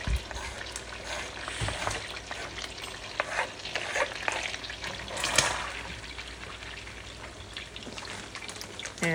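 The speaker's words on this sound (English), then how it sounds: "Let's get the shallots and the garlic in." Shallots and garlic frying in two sticks of butter for BBQ shrimp, a steady close sizzle with scraping stirs and soft crackles throughout, no voices.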